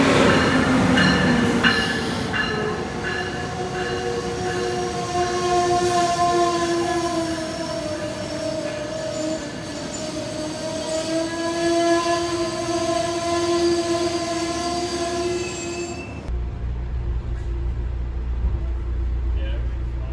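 An Amtrak passenger train rumbles past close by with a sustained roar and ringing, tonal wheel and horn-like notes for about sixteen seconds before it cuts to a low wind-buffeted rumble.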